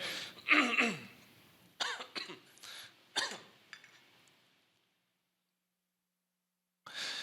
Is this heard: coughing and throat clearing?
yes